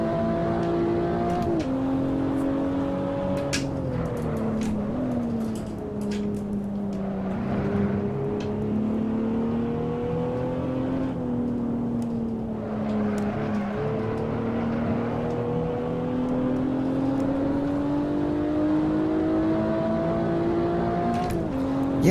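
Race car engine in Assetto Corsa on PS4, a steady loud drone that rises and falls through gear changes and revs across a lap, with no talking.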